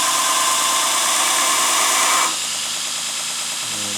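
A belt grinder fitted with a coarse belt grinds tool steel, giving a loud, continuous close-up roar and rasp that shifts to a slightly lower, steadier whir partway through.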